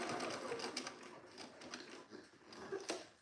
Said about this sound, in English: You're basically just sewing on top of your stitching.